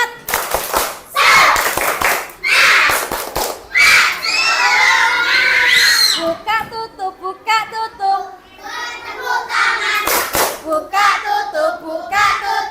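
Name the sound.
schoolchildren doing a spirited clapping cheer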